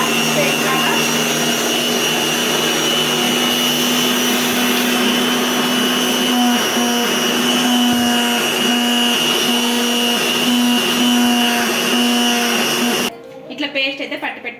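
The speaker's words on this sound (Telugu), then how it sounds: "టమోటా ముక్కలు కట్ చేసుకున్నటివి వేసేసుకొని మిక్సీ పట్టేసుకుందాం" A kitchen mixer grinder runs loud and continuous, whirring as it blends tomato pieces for a mutton gravy, then cuts off near the end, leaving brief quieter sounds.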